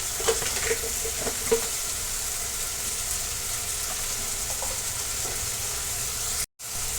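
Tomato frying in oil in a pan gives a steady, fairly loud sizzle, with a few light clinks early on as spices go in, then a brief dropout near the end.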